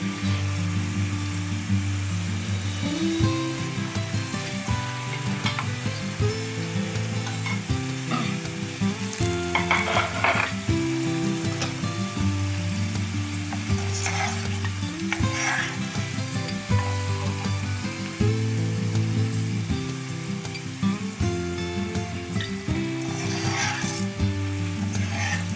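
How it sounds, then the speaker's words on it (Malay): Onions frying until crisp in oil in a wok, with whole garlic cloves added, for Arab-style upside-down rice; a loud, continuous close sizzle and crackle runs unbroken throughout, with no voices. "Akhir sekali kita goreng bawang besar sampai garing, dan juga kita masukkan juga bawang putih sebiji-sebiji,"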